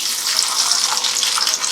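Green bird's eye chilies and garlic sizzle in hot oil for sambal, a dense, steady crackling hiss with small popping bursts, close up and continuous with no voices.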